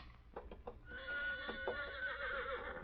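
A horse neighs loudly and close by in a long, wavering whinny, preceded by a few short snorts or hoof knocks, with no talk over it.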